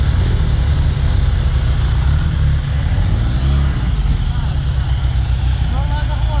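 A snowmobile engine runs steadily nearby on a trail around Ruka, a loud constant low drone with no breaks, and people talk over it.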